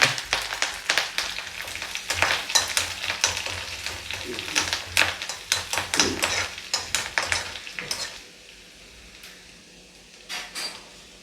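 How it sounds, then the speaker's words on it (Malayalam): Mustard seeds, dried chillies, sliced shallots and curry leaves frying in hot oil for a Kerala sadya dal tempering: dense crackling sizzle with sharp popping bursts and clinks for about eight seconds, then dying down to a faint hiss. "കടുക് വറുത്തെടുത്തിട്ടുണ്ട്"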